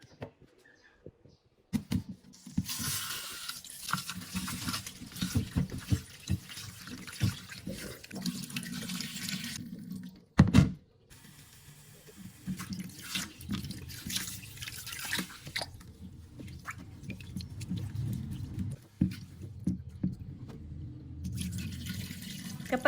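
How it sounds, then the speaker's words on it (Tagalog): Two cups of rice being rinsed in a pot under running tap water before steaming, with long stretches of pouring and splashing, a brief pause, then more sloshing and dripping close by. "Kapag nagluluto ako ng rice, hinuhugasan ko to ng 3 to 4 times"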